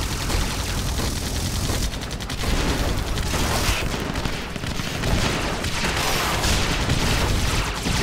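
A Gatling gun fires in the game AirMech in long, loud, rattling bursts with brief gaps between them, close and dense, with no talk.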